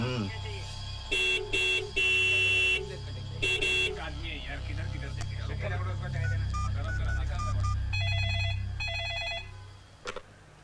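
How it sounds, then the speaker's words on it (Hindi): A car horn honks repeatedly in short bursts, a cluster of loud toots followed later by a few more, over a low idling engine rumble. "कब से हॉर्न बजा रही हूँ"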